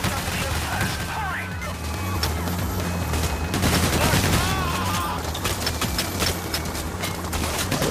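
Machine gun fire rattles in the Payday: The Heist video game, rapid bursts of shots crackling continuously under speech and other game sounds.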